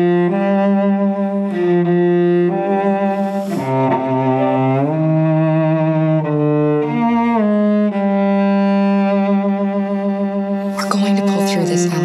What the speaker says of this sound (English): I found a little theme that just seemed to fit over the top